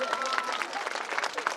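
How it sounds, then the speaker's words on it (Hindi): Audience applause at an outdoor DJ dance competition in Belardona, Chhattisgarh, a dense crowd clapping steadily with cheering voices and some talk mixed in, moderately loud throughout. "जोरदार तालियां तो बजाइए।"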